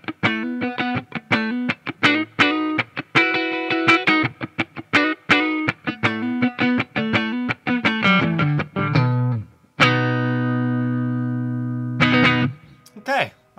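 A 2018 Gibson HP High-Performance Les Paul Standard electric guitar played through distortion: rapid, choppy riffs of staccato chords, then a long sustained ringing chord and a final short stab, loud and close.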